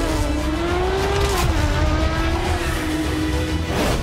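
A Porsche sports car engine holds a steady, loud roar with a rising and falling pitch, swelling briefly as the throttle is blipped near the end, continuous and close with no talking.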